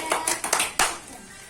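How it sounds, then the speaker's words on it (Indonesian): A small group of students in a classroom claps briefly for another group, a few loose, uneven claps over about a second before falling quiet. "Yuk kelompok 1 beri tepuk tangan kepada kelompok 2"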